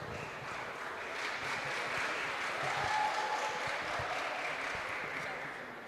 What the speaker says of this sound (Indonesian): Berikan tepuk tangan untuk semua regu.